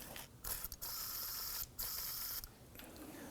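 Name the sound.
working a rusted bolt back and forth on a Ford Focus control arm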